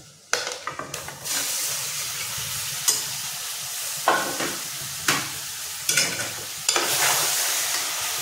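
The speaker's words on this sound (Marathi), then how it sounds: "हे व्यवस्थित असं परतून घ्यायचं तेलावर" Chicken with red chilli powder sautéed in hot oil for a Malvani sukka chicken, with a steady close sizzle broken by repeated scraping stirs of a spoon against the pan.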